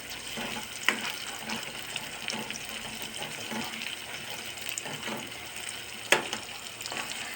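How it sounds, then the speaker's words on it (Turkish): Eggs fry in an aluminium pan with a steady broadband crackle, joined by a couple of sharp clinks or taps near the start and again toward the end; no one talks. "Ben yumurtayı pişirirken ilk önce şöyle beyazlarını pişiriyorum."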